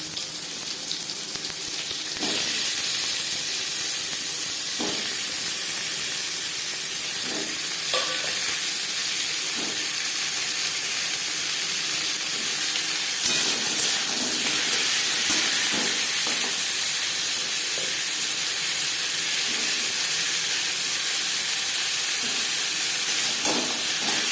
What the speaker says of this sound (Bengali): লঙ্কার সাথে পাঁচফোড়ন ভেজে নেওয়ার পর দিয়ে দেবো আমি